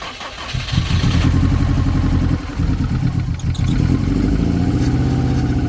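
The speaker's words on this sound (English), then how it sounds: "So we're just about to start this car up." A Subaru Impreza WRX STI engine cranks and catches after an engine install, then runs with a steady, loud, rough idle close by, with no talk over it.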